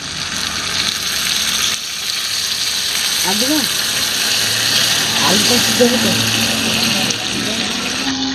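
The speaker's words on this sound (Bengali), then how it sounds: "এই যে মাসিমা এখন এই জলটা দিয়ে দেবে জলটা দিয়ে দিচ্ছে" Water poured into a pan of braised meat and potatoes, with a sizzling, splashing hiss under steady background noise and a few faint voiced sounds.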